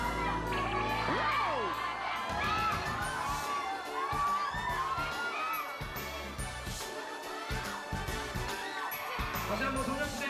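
A studio audience cheers and shouts loudly for the K-pop group Girls' Generation on a school-themed variety show, a dense, excited crowd roar with high-pitched screams and whoops, music and voices mixed in throughout.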